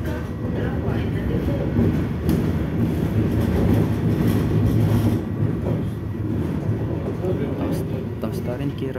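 A tram, car number 1210 on route 6, rumbles along its rails past a tram depot with a steady low roar, faint rhythmic clacks, and people talking over the noise.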